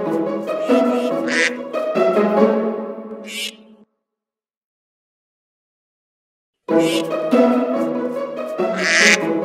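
A cartoon duckling in a children's counting show quacks in two lively bursts of rapid calls, separated by a few seconds of silence.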